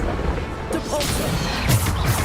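A Depulso spell cast in the video game Hogwarts Legacy gives a couple of sharp whooshing impacts that rise briefly over a steady bed of game noise.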